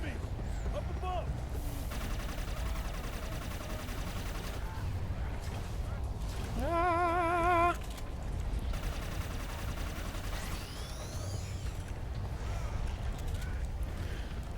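Bursts of gunfire from the third-person shooter Inversion, several sharp shots scattered through the span amid game sound effects and a swelling tonal cue, with someone talking over much of it.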